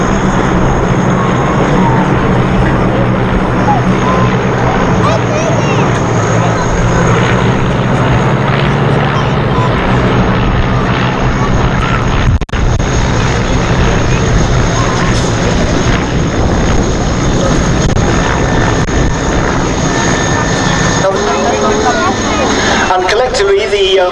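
Propeller engines of an aerobatic display team's light aircraft at the Duxford Air Festival drone loud and steady throughout, a broad continuous roar that shifts slightly as the planes pass, with no pauses.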